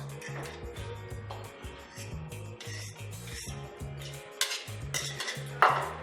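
Choux pastry dough for chouquettes is mixed in a bowl, with repeated wet, sticky stirring strokes and light clinks of a utensil against the bowl, faint and close.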